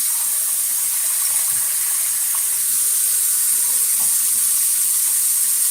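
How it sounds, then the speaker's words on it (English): Rice is rinsed under a running kitchen tap, with a steady close hiss of water pouring into a sink and only faint shifting splashes beneath it. "Let me wash my rice."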